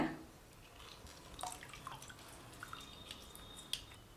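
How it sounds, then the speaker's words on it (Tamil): Whole lemon squeezed over a glass while making a beetroot and carrot juice, giving soft scattered drips and small liquid splashes, fairly faint and quiet with no talking. "ஒரு முழு எலுமிச்சம்பழத்தை பிழிஞ்சு விட்டுருக்கேங்க"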